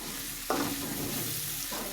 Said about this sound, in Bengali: পেঁয়াজটা আর একটু ভাজা ভাজা করে নিলাম